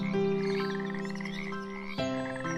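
A frog croaks in a sustained, buzzing trill, loud and close, with a brief break near the end before croaking resumes.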